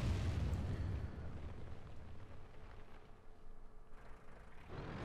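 A tank gun firing in World of Tanks: a heavy low boom at the start, then a long rumbling decay under steady battlefield noise.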